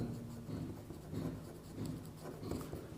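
Pen writing a geometry proof about an equilateral triangle by hand, soft scratchy strokes on paper in short repeated bursts, close and quiet without speech.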